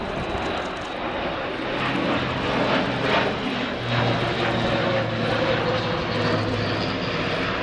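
An Airbus A400M Atlas military transport aircraft flying a display at the RIAT 2017 airshow gives a loud, continuous propeller-engine roar with a low droning hum, steady throughout.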